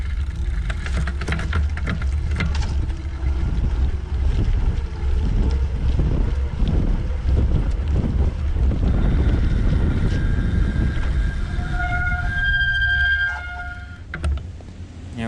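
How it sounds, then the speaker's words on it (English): A Rad Power RadCity 4 electric bike making a top speed run on concrete, dominated by loud, steady wind rush and rolling rumble throughout, with a brief whine of tones near the end. "And now I'll probably do a top speed test just on the concrete."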